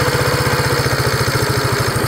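Yamaha SR250 single-cylinder motorcycle engine idling after a cold start, a close, loud, even thumping pulse at a steady rhythm with no voices.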